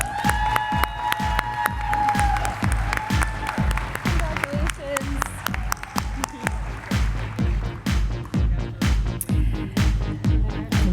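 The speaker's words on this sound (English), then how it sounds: "Big round of applause for Fred Ray." Audience at a 2020 school district awards event applauds and cheers loudly as finalists are welcomed on stage, a dense, sustained wash of clapping with occasional shouts.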